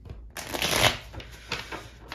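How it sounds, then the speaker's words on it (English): A deck of tarot cards is shuffled in two quick riffling bursts, crisp and close, with a brief pause between them. "I'm shuffling cards for you."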